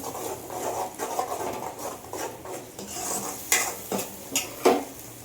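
Spices sizzle in a hot pan while a spoon stirs and scrapes, with several sharp metallic clinks toward the end.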